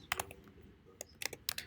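Keystrokes on a computer keyboard during JavaScript coding, a few quick clicks then a pause and two more short bursts, faint and close with no talk.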